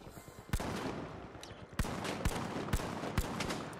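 Gunfire in the shooter game The Finals: a few sharp, loud shots spaced irregularly over a background of game noise, with about five distinct cracks.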